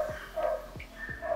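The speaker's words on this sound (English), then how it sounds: "Nag-growl siya, pero ang kitang growl niya kasi ang liit niya. It's a fuzzy chihuahua." A small fuzzy long-haired chihuahua makes short, yappy growling barks, about three to four quick bursts, fairly close and clear.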